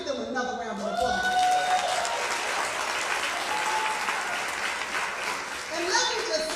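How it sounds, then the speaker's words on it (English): An audience at a Black History celebration claps in a round of applause mixed with crowd noise and a few cheers, rising and fading with brief voices audible around it. "Let's give them another round of applause."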